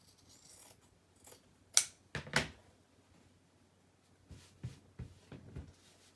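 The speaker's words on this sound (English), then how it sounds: "So let's cut it right there, and then let's cut that hem piece off." Scissors snip through flannel fabric to cut off a hem piece, a few sharp, close cuts in separate quick strokes with quiet handling sounds between them.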